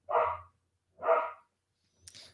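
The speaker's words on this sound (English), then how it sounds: "It doesn't sound like your dog likes Amon-Ra St. Brown very much" A dog barks twice, clear and fairly close, with a brief higher yelp or noise following after a pause.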